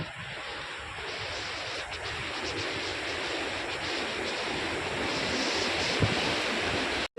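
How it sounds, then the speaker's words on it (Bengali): Mountain stream water rushing steadily in Kharma Valley near Manali, a dense, continuous roar of flowing water close by, with no talking. "এই যে এখান থেকে এই যে এরকমভাবে জল আসছে"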